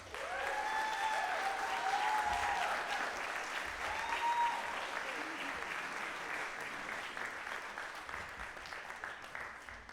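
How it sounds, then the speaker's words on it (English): Sustained audience applause after a high school jazz band's spring concert, a broad, even roar of many hands clapping for around ten seconds, with a few voices calling out early before it slowly tapers. "Give them a round of applause."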